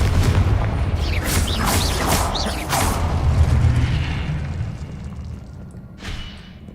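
Explosive spell blasts from the Confringo curse in the Hogwarts Legacy video game, several bright whooshing bursts with booming impacts over a constant low rumble, loud and close, fading near the end with one last flash.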